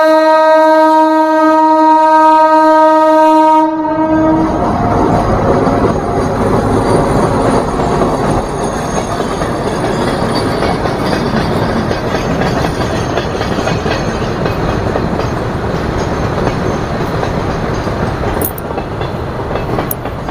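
A train runs along the track right beside a house, a loud, steady roar with clattering wheels that fills the whole stretch. A horn sounds at the start, and there is no talking.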